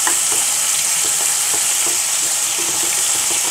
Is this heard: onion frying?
yes